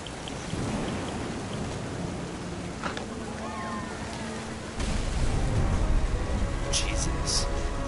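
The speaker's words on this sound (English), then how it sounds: "The thunder sounded much too close and full of angry power." A thunderstorm in What Remains of Edith Finch: steady heavy rain hiss with rumbling thunder that swells louder partway through, close and full, with faint background tones.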